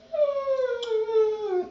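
A dog whimpering in one long, drawn-out whine that slides slowly downward in pitch, close and clear, with a brief break in the middle.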